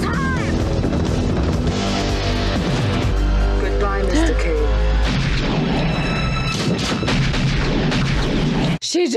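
Loud gunfire from a movie shootout in a Beverly Hills Cop 2 scene, with booming shots and crashes over a dramatic score, while people talk over the action.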